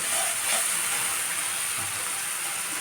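Continuous steam and sizzle from water added to a hot pan of simmering singhi fish curry, a steady broadband hiss with no voices over it.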